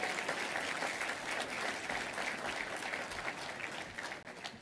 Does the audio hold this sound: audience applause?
yes